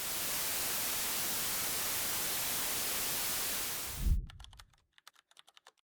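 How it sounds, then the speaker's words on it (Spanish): Broadband white noise hisses steadily and loudly for about four seconds, then cuts off abruptly and gives way to near silence with a few faint clicks. "Así suena el ruido blanco."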